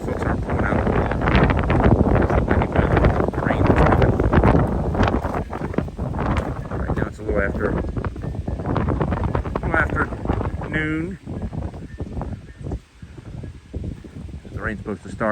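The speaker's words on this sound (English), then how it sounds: "It's windy weather, rain is coming." Wind gusting across an open field at the Joe Nall 2022 model aircraft event ahead of rain, blowing hard against the microphone as a steady roar that eases and surges, with people talking over it throughout.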